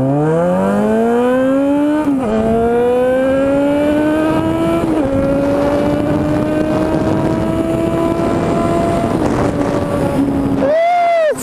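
A Yamaha XJ6 motorcycle accelerates hard toward 140 km/h, its engine whine climbing in pitch through several gear changes with brief dips between them, loud and close over steady wind rush.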